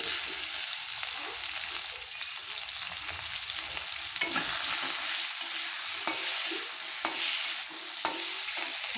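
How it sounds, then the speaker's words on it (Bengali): Steady oily sizzle of a fish curry frying in a pan, with potatoes already in and green chillies added, broken by a few light clinks and stirring scrapes near the end. "এখন কাঁচা লঙ্কা ফাটিয়ে দিয়ে দেবো।"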